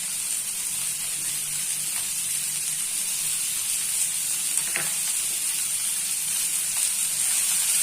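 Onions with red chilli powder, coriander, turmeric and salt fry steadily in a pan, a continuous close sizzle with a few faint stirring clicks.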